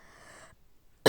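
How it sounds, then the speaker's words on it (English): A single short, sharp cough bursts out at the very end from someone with a bad cold, after a faint tonal hum and a moment of silence. "I'm sorry guys if I cough a lot."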